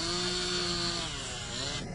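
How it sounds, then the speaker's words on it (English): A powerful chainsaw cuts into ice, giving a loud, sustained high-pitched whine and gritty buzz that holds steady for about two seconds before easing off at the end. "This powerful chainsaw is designed to cut through hard objects like ice easily."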